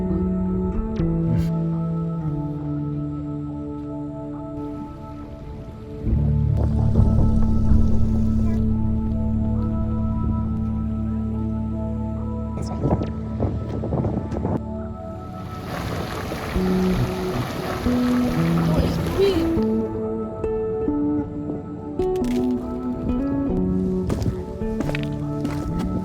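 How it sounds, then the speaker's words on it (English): Hot springs bubble and churn on volcanic sulfur ground in Lassen Volcanic National Park, northeastern California, a continuous wet gurgling hiss that swells midway and stays fairly loud, mixed with footsteps and outdoor noise. "The bubbling hot springs,"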